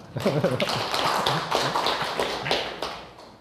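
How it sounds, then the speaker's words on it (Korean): An audience at a lecture on reading the Analects gives a brief round of applause, with dense hand claps and sharp individual slaps overlapping, strong at first and then tapering off. "박수 한번 해주세요"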